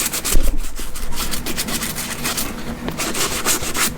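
Loud, close, continuous brisk brush scrubbing works dirt and grime out of the stitching on Diehard moc toe boots, a steady rasping rhythm with no talk.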